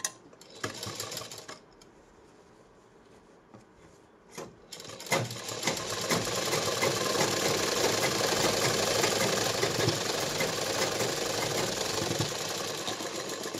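A sewing machine stitches a straight seam down a silk blouse, starting after a few clicks and quiet handling, then running steadily and close for the remaining several seconds.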